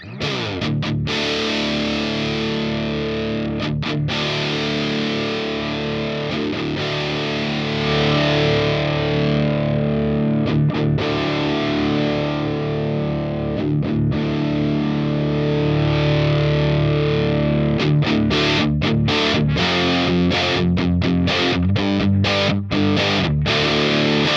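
Electric guitar run through a DemonFX Fat Mouse fuzz pedal with its filter knob rolled up, giving a thick, darker distorted tone with the high end cut; sustained chords and riffs play loud and continuous for the whole stretch, with brief gaps.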